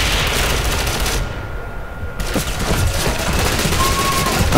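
Dense, loud gunfire from the Ghost Recon video game fills the scene in rapid overlapping bursts, with no clear pause between shots.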